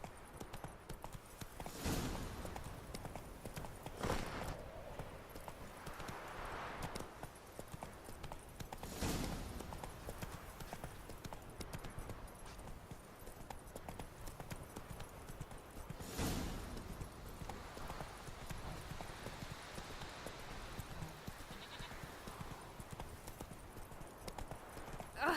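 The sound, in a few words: horse Roach hooves in The Witcher 2 video game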